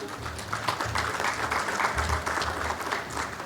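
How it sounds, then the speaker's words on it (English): An audience at a panel discussion on personal branding for lawyers applauds a panelist, giving steady, moderately loud clapping that continues throughout. "Please give a round of applause for ma'am."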